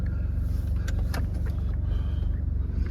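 A Jaguar XF 2.0d diesel Sportbrake with automatic gearbox idles smoothly and quietly, a steady low rumble with faint clicks from the cabin.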